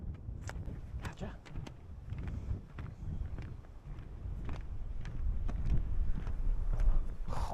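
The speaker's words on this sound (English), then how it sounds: "Oh, that wind is..." Wind gusting across an exposed mountain walking track on the Tongariro crossing, roaring and buffeting a microphone in a steady low rumble that strengthens toward the end, with faint scuffs and movement.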